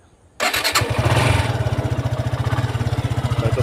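A Suzuki Gixxer SF Fi ABS motorcycle in near-new condition starts with a short crank, catches suddenly and settles into a steady, rapid, thumping idle, loud and close with no voices.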